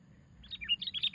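A sooty-headed bulbul, or kutilang, gives a quick run of bright chirps and tweets, close and clear over a faint low background hum.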